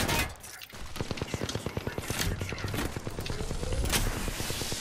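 Rapid automatic gunfire from an Apex Legends match, with a Revenant player on the roof, crackles in dense bursts of close shots throughout, under some faint voice activity and a few footstep-like thuds.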